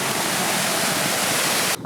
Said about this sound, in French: On est arrivé à une cascade.